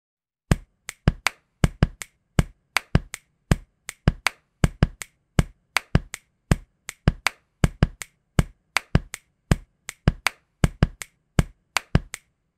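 Body percussion made of sharp hand claps and chest pats strikes in a crisp, syncopated pattern, isolated hits spaced across a dozen seconds with clean silence between them and no voices.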